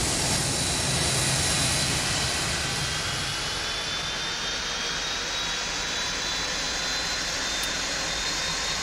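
A Boeing 747-200 jet engine spools up during start in the X-Plane flight simulator, a steady broadband roar with a rising whine that holds loud and constant throughout.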